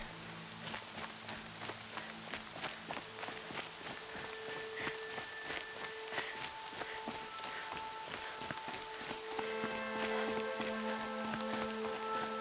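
Steady rain in Horizon Zero Dawn, a soft continuous patter of drops with scattered ticks and faint footsteps, quiet beneath sustained game music tones.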